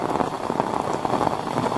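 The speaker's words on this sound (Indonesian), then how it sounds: "Hujan perdana nih, dan" Heavy rain pouring down in Kuningan, a dense close hiss of drops hitting surfaces, steady and loud throughout with no talk.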